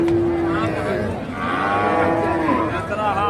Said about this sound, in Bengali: এই গরুটি ফিজিয়াম জাতের একটি অনেক বড় গরু